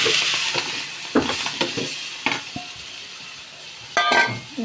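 Cooked long beans tossed with curry leaves in a pan, stirred with a spoon: a steady sizzle runs throughout while several scraping stirs and clinks of utensil on metal come through up close, with no talking.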